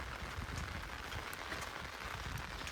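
Steady rain falls during a cyclone on a trip in Tamil Nadu, a soft, even hiss of drops that stays faint and continuous throughout, with no voices.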